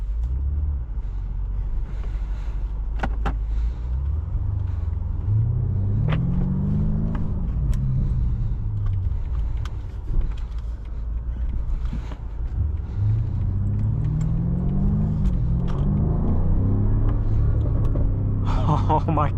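A 2021 BMW M5 Competition with a carbon roof rumbles deeply from inside the cabin, its engine note rising twice through climbing revs under acceleration, while a person talks over the drone.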